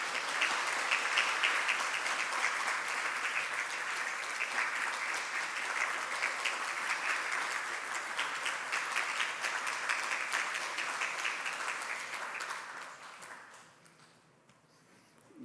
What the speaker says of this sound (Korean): 여러분 박수로 우리 격려해 주시면 감사합니다.